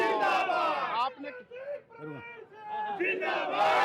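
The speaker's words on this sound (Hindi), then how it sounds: "ये जो नारे लग रहे" In an Indian village setting, a crowd shouts slogans in welcome of a politician, loud rhythmic chanting voices rising and falling, with a quieter stretch in the middle before the chant swells again.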